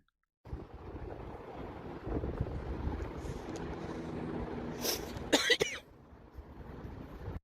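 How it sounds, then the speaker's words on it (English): One person coughs hard after taking a smoke, a rough, breathy burst over a steady, muffled background noise. "That is a cough of somebody who is taking a toke on something they yet again still can't handle"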